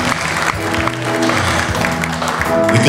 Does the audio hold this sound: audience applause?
yes